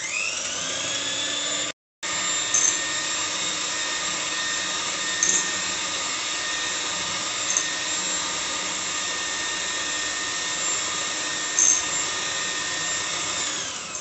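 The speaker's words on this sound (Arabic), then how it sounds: "غادي نطربوا هاد السكر والبيض حتى ضاعف الحجم ديالو" Electric mixer whipping sugar and eggs for a cake, a loud steady high whine running almost without a break, with one short gap early on and small clicks of the beaters against the bowl.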